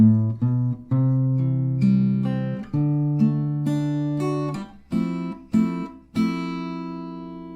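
Acoustic guitar chords from a song, strummed and sustained, changing every second or so, with bass notes and clear ringing strings close up.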